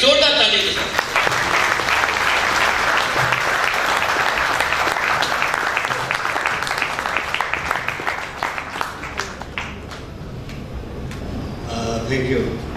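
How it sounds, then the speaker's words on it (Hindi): A Lions Club audience applauds a chief guest with sustained loud clapping that gradually thins into scattered individual claps. Some voices can be heard near the end. "एक जोरदार ताली के साथ।"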